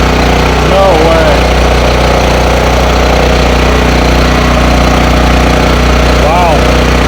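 A free Husky portable generator runs steadily throughout, its loud, constant engine drone filling the clip with a low hum and rough mechanical texture, with no talk over it.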